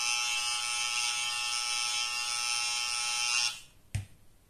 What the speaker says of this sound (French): la tondeuse